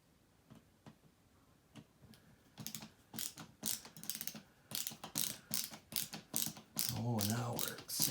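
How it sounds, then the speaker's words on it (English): A ratcheting screwdriver clicks in quick irregular bursts as screws are tightened into the ceiling mount of an Artika Swirl integrated LED pendant light, loud and close, ending in a brief louder whir. "And just simply tighten your screws in"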